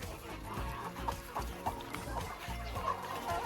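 Hens and young chicks in a henhouse cluck and peck while being fed boiled grated potato, with soft, close, repeated clucks and low chatter over a steady background.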